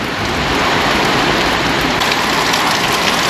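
Heavy, steady rain pours down continuously outdoors, a loud, dense hiss with no talking heard.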